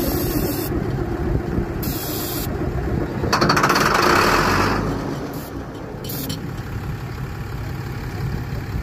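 An old tractor engine, abandoned for years, briefly fires on ether. It gives a loud rough burst of combustion roar that swells and fades within a few seconds, over a steady rumbling background.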